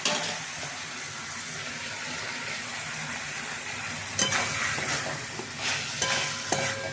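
Potato, papaya and prawns fry in a pan with a constant close sizzle and bubbling. Stirring scrapes and a few sharper clatters come in the second half, and nobody speaks.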